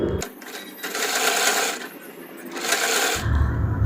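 A sewing machine stitches pieces of red cloth and net together. It whirs in three short bursts with brief pauses between them, loud and close.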